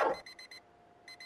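An alarm in a video game beeps in short, faint repeated bursts, pausing briefly before starting again.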